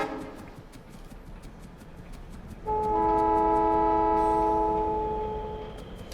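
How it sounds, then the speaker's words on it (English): Trains pulling into a station in the game Factorio, a steady hum that rises in loudness partway through as layered horn-like tones sound together and hold for several seconds before fading slightly, with no talk. "But all these trains are making it in"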